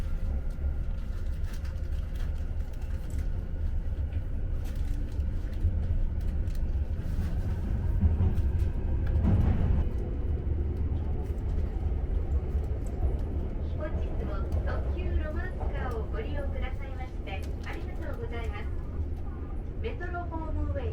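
Tokyo Metro Homeway limited express Romance Car subway train pulling out of Otemachi station, a steady low rumble and rolling hum under a muffled voice, building slightly as it gets under way.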